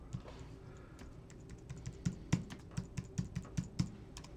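Fingers tap out a PIN on a computer keyboard, a string of about a dozen crisp, evenly spaced keystrokes growing louder toward the end, close by and with no voices.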